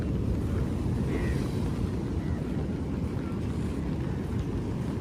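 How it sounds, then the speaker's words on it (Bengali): Rough Indian Ocean surf off Negombo, Sri Lanka, under rain, with a steady broadband roar of wind and heavy waves that stays loud and continuous throughout, with no voices. "অনেক বড় বড় ঢেউ।"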